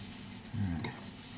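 Panfish sizzle in a frying pan, a soft steady crackle with a brief louder stir or shift midway, faint and without speech.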